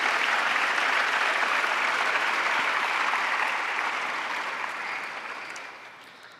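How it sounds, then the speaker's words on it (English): A large assembled crowd at an evening session gives healthcare workers a big round of applause, dense and steady clapping that gradually fades away. "Very big round of applause to all the healthcare workers who have assembled here."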